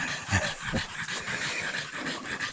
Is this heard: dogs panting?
yes